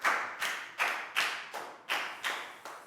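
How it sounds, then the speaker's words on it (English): Schoolchildren in a Year 4 science lesson clapping for a classmate, about eight evenly spaced, sharp, close claps that sound like a single pair of hands in a steady rhythm. "a big round of applause for Down"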